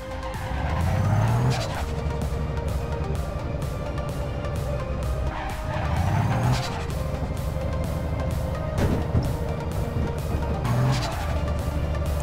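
A car in the APB video game drives and repeatedly skids, with several bursts of tire squeal standing out above a steady engine drone, alone without speech.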